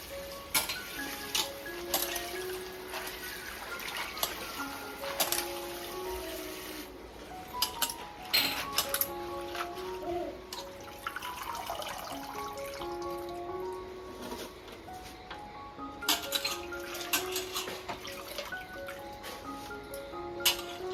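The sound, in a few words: washing karadu leafy greens in water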